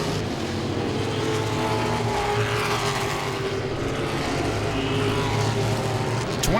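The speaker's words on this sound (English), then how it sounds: "trying to get to lap number 50 as Anthony Kincaid goes around the 77 of Joe Bruce" Modified race cars roar around Langley Speedway during a race, a dense continuous engine drone from several cars at once with pitch shifts as they pass, loud throughout, no talk.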